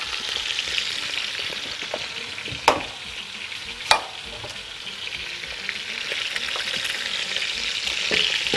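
Carrots and onion sizzle steadily in a hot pan, a continuous bright frying hiss with two sharp knocks of the stirring utensil against the pan partway through, close and without talk.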